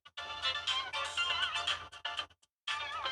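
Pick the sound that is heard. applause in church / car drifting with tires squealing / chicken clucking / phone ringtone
phone ringtone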